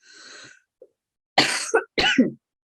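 A short breath, then two harsh coughs in quick succession from a person with COVID, close and fairly loud, with no talking.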